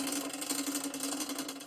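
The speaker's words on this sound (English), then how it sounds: "The chain's rubbing the outside cage because we're on the inner ring over here and the outer ring back here." Chain on a Bianchi Boardwalk bicycle rubbing the outer front derailleur cage while cross-chained on the inner chainring and the smallest rear cog: a steady, continuous whirring scrape with a faint buzzing tone, close up and with no talking.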